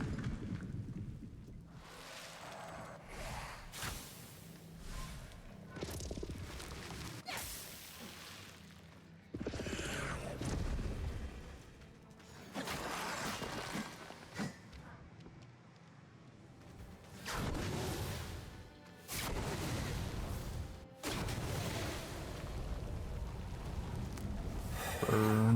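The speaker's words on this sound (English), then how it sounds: "Whoa, massive explosions." Deep rumbling booms and crackling blasts of explosions in the video game Eternal Strands roll in repeated loud bursts, separated by quieter stretches, with no voices.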